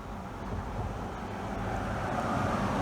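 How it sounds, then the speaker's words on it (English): Steady broadband roar of road traffic along a main road near Wattling Lodge in Falkirk, continuous and fairly loud with wind buffeting the microphone, no voices. "Get away from the noise of the traffic."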